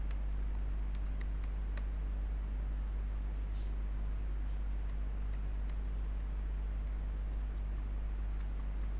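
An email address typed on a computer keyboard while signing in to a cloud console, a steady run of quick, close key clicks over a loud constant electrical hum, with no talking.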